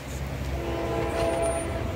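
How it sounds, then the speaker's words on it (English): A multi-level train rolls past near a building in Ridgewood, New Jersey, its steady rumble and a sustained horn tone filling the short stretch, fairly loud and close. "Oh, there goes a train."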